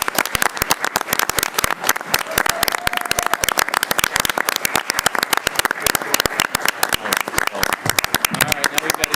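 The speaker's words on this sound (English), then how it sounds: "So if you would join me in a round of applause for Mrs. Turner." Applause from the audience at a school board of education meeting, honoring a retiring board member: dense, steady clapping from many hands that fills the whole stretch, with a few voices faintly underneath.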